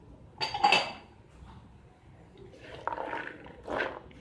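Black chickpeas and red beans being stirred in a bowl with a spoon, giving a few scattered clinks and scraping knocks with quiet pauses between them. No one speaks.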